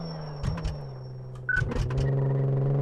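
Car engine in Car Mechanic Simulator 2014 holding a steady drone, then revving up sharply with gear-change dips partway through, rising and staying loud toward the end.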